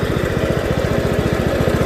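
A Husqvarna riding lawn mower engine runs at low speed close by, a loud steady chugging with a fast, even pulse and no pauses or voices.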